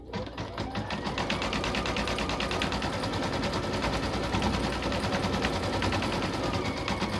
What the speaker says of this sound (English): So I'm gonna start stitching this design out and I'll be back.